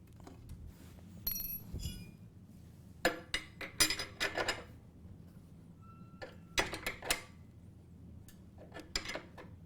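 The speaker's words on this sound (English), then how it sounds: "so I'm going to tighten everything up" Screws are tightened on a new Sailrite Fabricator sewing machine's belt cover and table, giving faint, scattered metallic clicks and clinks in short clusters against a quiet background.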